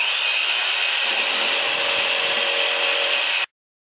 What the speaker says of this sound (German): jetzt versuche ich eben schön sauber am Strich entlang zu sägen